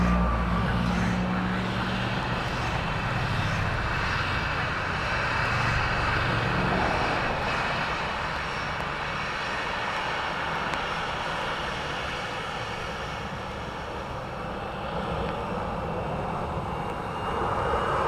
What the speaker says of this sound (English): the returning A330 from Malaga